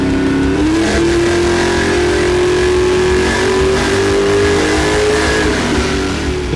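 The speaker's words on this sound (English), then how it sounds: "it was time to get the LS1der back on the dyno to see what kind of improved numbers she can make." An LS1-powered Camaro fitted with a FAST intake and throttle body roars steadily on a dyno, the engine held at high, sustained revs with a loud, continuous droning exhaust note throughout.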